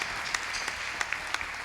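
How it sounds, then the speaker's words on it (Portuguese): Applause rises from a church congregation during an evening Lord's Supper service, a soft, steady patter of scattered hand claps that sounds distant and thin, with a few sharper claps standing out. "Pode aplaudir"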